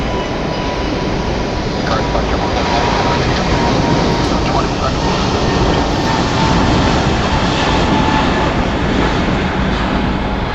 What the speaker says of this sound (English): Let's grab this Frontier departure.